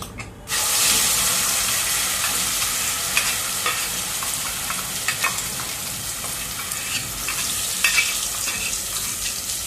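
Turmeric and tomato puree drop into hot oil for chhole, setting off a sudden loud sizzle that settles into a steady, close frying hiss with small crackles and stirring scrapes.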